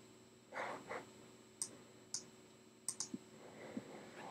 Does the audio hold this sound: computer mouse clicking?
yes